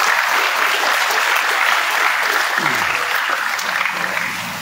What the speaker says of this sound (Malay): Tepukan kali untuk YB.